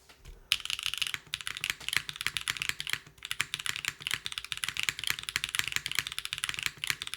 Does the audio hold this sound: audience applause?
no